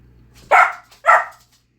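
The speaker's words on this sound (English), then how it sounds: "Dog." Two sharp, loud barks from a nearby dog, spaced about half a second apart and followed by quiet.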